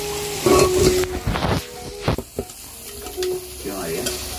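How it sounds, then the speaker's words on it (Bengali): Spice masala stirred and fried in a pan for a Bengali meat curry, with a spatula scraping through the thick paste amid steady sizzling and a few louder scrapes and clatters close by. "ঢাকনাটা খুলে আর একটু নেড়ে চেড়ে মশলাটাকে কষিয়ে নিলাম"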